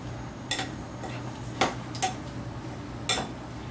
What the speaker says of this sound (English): now mix the ingredients together